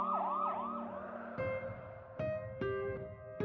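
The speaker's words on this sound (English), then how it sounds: "The paramedics arrived and took Emily to the hospital immediately." An ambulance siren wails, sweeping up and down, then gives way to sharp, repeated electronic yelps and tones, moderately loud and without any voices.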